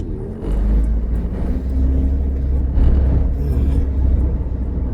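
A car overtaking on a blind bend: a steady, close engine and road rumble builds slightly as the vehicle pushes on, continuous for five seconds, with no talking.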